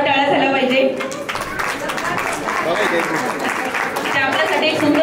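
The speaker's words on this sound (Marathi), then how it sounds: "जोरात टाळ्या झाल्या पाहिजे" An audience claps loudly at a thread ceremony (upanayan), the applause broad and sustained for several seconds, with a voice speaking over it.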